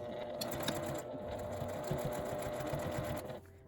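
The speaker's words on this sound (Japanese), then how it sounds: "端ミシンをかけます。" A sewing machine edge-stitches the lid of a zippered fabric pouch, running in a fast, steady mechanical whir with rapid needle ticks close by before stopping near the end.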